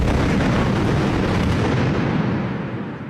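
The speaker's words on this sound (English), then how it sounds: "you'll see all the pyrotechnic charges going off" Pyrotechnic charges go off on a film set in a loud, continuous, dense blast of explosions that roars and then fades out toward the end.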